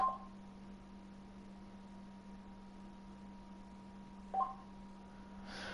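Mobile phone keypad tones sound as a few short, faint beeps spaced seconds apart over a quiet, steady hum.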